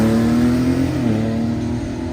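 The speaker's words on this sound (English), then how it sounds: "And that's an Inline 6 twin turbo." A 2024 Dodge Charger with the Hurricane twin-turbo inline-six and drag pack drones loudly at a drag strip, its exhaust holding a steady, rumbling pitch that wavers slightly before settling.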